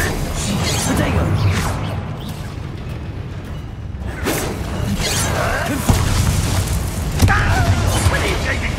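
Bombarda explosion spell cast in Hogwarts Legacy amid loud spell combat, with heavy booms, crashes and whooshes coming in bursts over a dense battle background, spell names voiced along the way.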